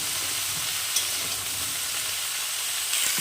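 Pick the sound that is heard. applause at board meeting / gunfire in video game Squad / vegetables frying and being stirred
vegetables frying and being stirred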